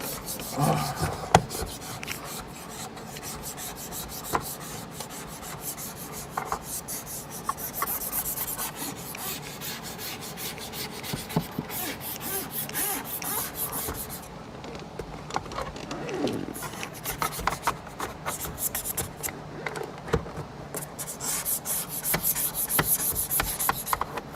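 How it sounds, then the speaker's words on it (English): Razor blade scrubbing at dots on a 2016 Dodge Dart window during ceramic tint installation, a steady close raspy rubbing that continues with small pauses throughout, with no talking. "Use this razor on these dots right here. Give them a good scrubbing."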